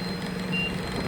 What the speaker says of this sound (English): And here you have the reverse alarm